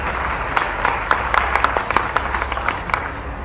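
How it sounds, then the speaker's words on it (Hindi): Moderate applause at a Bhopal cyber awareness event with the chief minister, a steady patter of claps with distinct sharper hits scattered through. "जोरदार तालियां हो जाए श्री ए साई मनोहर जी के लिए"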